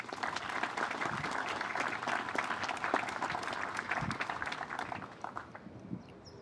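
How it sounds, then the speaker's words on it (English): A crowd at a military plaque unveiling ceremony honoring a Medal of Honor recipient claps to welcome the guests, with full, lively applause that thins and fades out over the last second or two. "Please join me in a round of applause to welcome our honored and distinguished guests."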